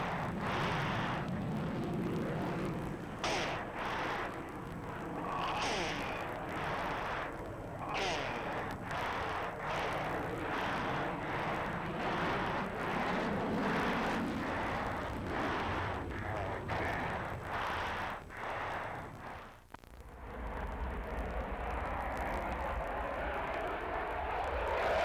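An F-15 fighter jet at an airshow in Topeka makes a high-speed climb, producing a long, sustained, distant jet roar that fluctuates in intensity and surges with crackling bursts, then drops to a lower rumble near the end.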